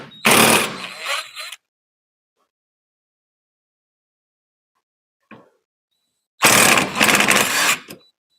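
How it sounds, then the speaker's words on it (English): An impact wrench fitted with chrome sockets fires in two loud, close bursts of hammering rattle during suspension reassembly on a Toyota MR2, with a faint short tap between and silence around them. "I know I'm using chrome sockets on an impact."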